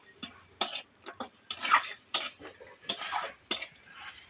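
A pan of bitter gourd chorchori with lentil dumplings being stirred, giving a run of short scraping and clinking spoon strokes against the metal in an uneven rhythm, close by, with no talking.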